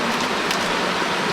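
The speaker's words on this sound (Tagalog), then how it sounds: "umuulan na" Rain falling at Linasin Falls in Pundaquit, San Antonio, Zambales, a steady dense hiss of drops filling the whole moment, with no break or voice.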